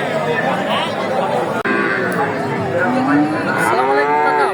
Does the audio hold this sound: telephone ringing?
no